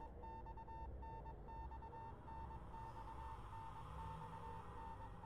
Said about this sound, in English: There's an incessant beeping,